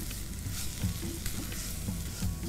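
Flour cooking in a pan for curry gravy, a soft continuous sizzle with scraping strokes of a spoon stirring it every half second or so, fairly close and quiet, with no talking.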